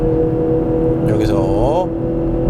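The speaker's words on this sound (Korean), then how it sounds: "가속 성능 테스트를 진행해 보도록 하겠습니다" BMW 640i xDrive M Sport accelerating in sport mode with paddle shifting, engine note rising sharply under a brief spoken word, swelling for about a second then easing back to a steady hum.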